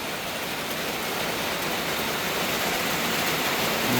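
Steady heavy rain falls with strong gusty wind during a March storm at a farm in Sakon Nakhon, Thailand, a dense continuous hiss that swells slightly toward the end, with no voices.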